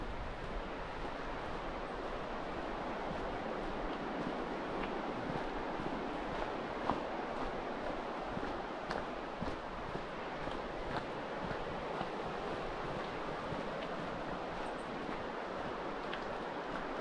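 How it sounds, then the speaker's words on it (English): Steady broadband rush of a river running through moss-covered rainforest near Haast, a continuous even flow without pauses, fairly distant and constant, with no voices. "and you can hear the river."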